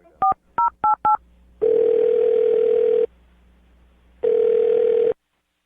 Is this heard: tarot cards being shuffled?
no